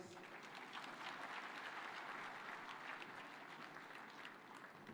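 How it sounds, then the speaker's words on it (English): Faint, distant applause rolls steadily through a conference hall as the audience applauds the host, a governor, at a devolution conference in Homa Bay. "Another super applause for our host."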